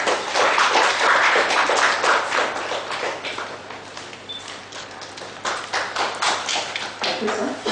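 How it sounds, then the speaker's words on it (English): Audience applause at a professional breakfast meeting on audit standards, a dense, steady wash of many hands clapping that fills the room, loud and continuous with slight swells, no talk over it. "Big round of applause, ladies and gentlemen."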